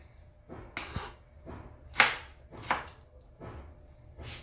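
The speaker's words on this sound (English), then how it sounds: "I've not used the same chopping board to cut up my vegetables" Tomatoes are chopped on a chopping board for pilau rice with beef, six or seven distinct knife strikes in an uneven rhythm, close and crisp in a quiet kitchen.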